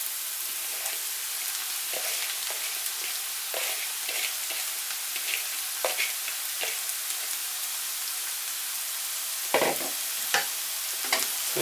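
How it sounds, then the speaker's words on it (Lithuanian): Carrots fry with onions in a pan, giving a continuous bright sizzle and crackle with occasional sharper pops and spoon scrapes toward the end, with no voices. "Ir taip pat apkepam kartu su svogūnais."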